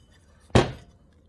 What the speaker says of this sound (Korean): 이렇게 고무망치로 이렇게 삽입을 하시면 되겠습니다